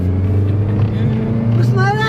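A Toyota 2.4 liter four-cylinder car engine pulls at full throttle with a loud, steady droning hum heard from inside the car, rising in pitch near the end as it revs up.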